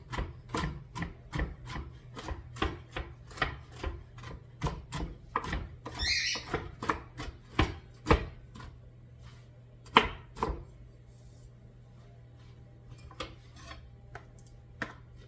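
A knife chops rapidly and rhythmically on a cutting board, a steady run of close, sharp taps that thins out into sparser strokes toward the end, with no talking.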